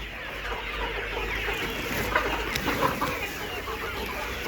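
Laying hens on a poultry farm, about 75 days old after beak trimming, clucking continuously as a dense flock murmur with occasional louder calls over steady background hum.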